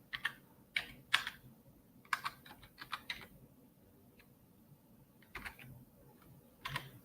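Irregular clicks of fingers typing on a computer keyboard, close and quiet, coming in short clustered runs separated by brief pauses, with no talking.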